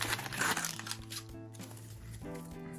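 Quiet plastic packaging for an invisible zipper crinkles and rustles as it is opened by hand, with soft close handling sounds and a faint voice in the background.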